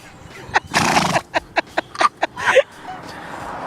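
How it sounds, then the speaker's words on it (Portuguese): A horse gives a sharp, snorting sneeze, a broad noisy blast followed by a series of quick short snorts and a final huff, close and loud. "Você sabia, por exemplo, que até mesmo os cavalos espirram?"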